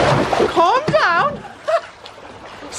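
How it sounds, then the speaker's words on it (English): Water splashes in a backyard hot tub when a MacBook Pro is dropped in, a quick splash amid loud shouting and high-pitched yelling voices. "Splash attack."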